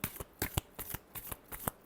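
Close, crisp riffling of a tarot deck being shuffled in quick, regular bursts of about six flicks, each a soft papery flutter, with no talking.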